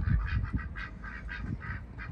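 Male mallard drakes with curled tail feathers call in a run of short, nasal quacks, fairly close and steady, over a low rumbling background without any talk.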